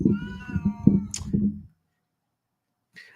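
A pet cat meows several times in a quick, close run of short calls, followed by silence and one faint chirp.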